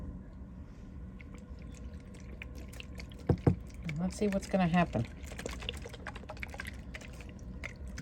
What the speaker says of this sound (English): So let's give them some of the molasses water.